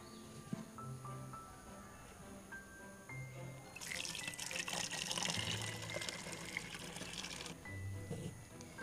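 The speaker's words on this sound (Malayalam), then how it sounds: "ഞാൻ അതിന് വേണ്ടി ഒരു ചോർപ്പ് ഉപയോഗിച്ച് ഞാനത് ഒന്ന് ഇതിനകത്തേക്ക് ഒഴിക്കുക." Diluted hydrogen peroxide solution is poured through a funnel into a 3/4-litre bottle, making a soft gurgling trickle that swells into a steady stream for a few seconds before tapering off, heard close and fairly quiet.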